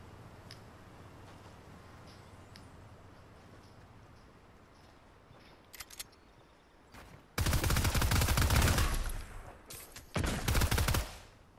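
Rapid-fire gunshots in Fortnite come in two loud automatic bursts near the end, after a quiet stretch of low game ambience and a few scattered clicks.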